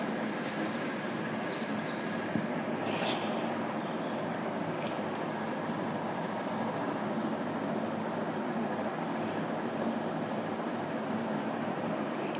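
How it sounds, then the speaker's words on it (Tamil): A DJI T16 agriculture drone, a large 16-litre spraying model, powers up and lifts off outdoors, giving a steady, dense broadband whir that holds at a constant loud level throughout with no speech. "ஸோ இப்போ இந்த T16 வந்து கிளம்பியாச்சு"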